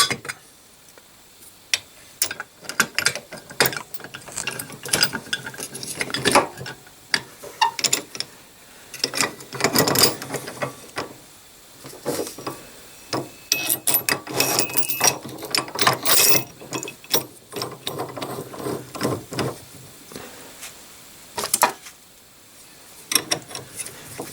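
Wheel puller being worked on a conical shaft to free a wheel on a 1954 Panhard Junior, giving irregular ratcheting clicks and metallic mechanical taps in uneven bursts, close and fairly loud with no talk.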